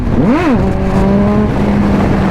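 A Streetfighter sportbike engine revving in third gear, a quick rising and falling whine followed by a steady, loud drone close by, with no talk.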